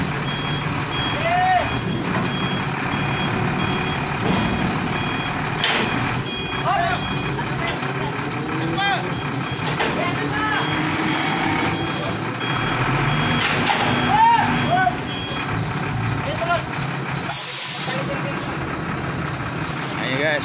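A truck reversing after a shipping container is transferred onto it, with a loud diesel engine running, repeated backup beeps, and occasional air brake hiss; voices can be heard in the background.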